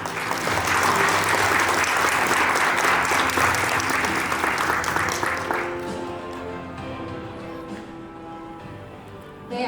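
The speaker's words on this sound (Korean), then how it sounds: "큰 박수로 김현주 세무사님을 맞이해 주시길 바랍니다" A seated audience gives loud, dense applause to welcome a tax accountant lecturing business owners at a seminar. It holds strong for about five seconds, then thins out and fades as a voice begins speaking.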